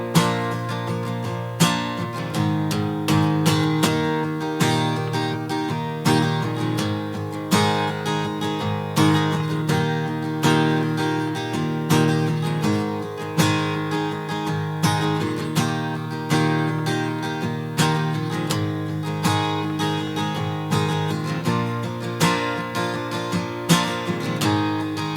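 Steady acoustic guitar strumming of a country-pop chord progression, a continuous rhythmic pattern of close, full chords with regular accented downstrokes running throughout, no voices.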